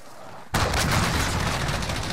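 A cruise missile strike in Call of Duty: Modern Warfare, an abrupt loud blast after a quiet moment, followed by a sustained roaring, crackling rumble.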